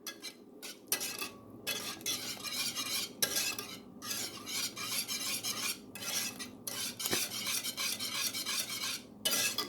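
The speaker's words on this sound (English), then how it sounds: "Give that a stir." Butter and vanilla bean paste are stirred in a metal pan, with repeated scraping strokes of a utensil against the pan, close and fairly steady, broken by brief pauses.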